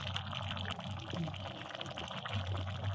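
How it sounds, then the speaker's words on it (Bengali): A pea and paneer curry simmers with soft, steady bubbling and wet liquid noise as a little ghee is sprinkled in, close and continuous. "নামানোর আগে আমি একটুখানি ঘি ছড়িয়ে দিচ্ছি।"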